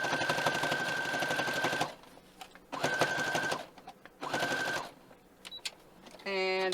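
A sewing machine stitches a fabric bowl made from jelly roll strips in three fast, buzzing runs separated by short pauses, close up, ending with a brief rustle of the fabric being handled.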